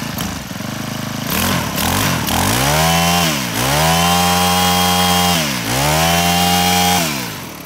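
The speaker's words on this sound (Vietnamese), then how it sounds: "Máy nổ cực kỳ là êm nhá" A used Japanese Honda GX25 brush cutter engine runs loud and close, its two-stroke-style buzz repeatedly dipping and climbing back to a high, steady rev, with no voices.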